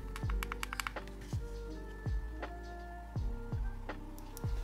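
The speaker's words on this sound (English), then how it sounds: "Next, we have the very clicky D-pad that may not appear to pivot well, but actually is very good at it." The D-pad on a Razer Kishi V2 Pro controller clicks repeatedly, each sharp, close tick spaced about a second apart in an otherwise quiet setting.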